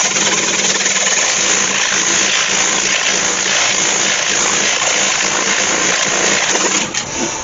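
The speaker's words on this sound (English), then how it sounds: "that just presents a different face of sandpaper each time to the wood" Sandpaper rubs inside a hollowed cherry wood vase spinning on a wood lathe, giving a steady, loud broadband hiss over the motor's hum with no pauses.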